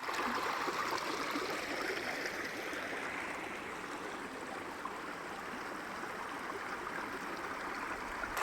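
Water rushing between rocks at a dam, a steady broadband roar that stays close and constant throughout with no voices.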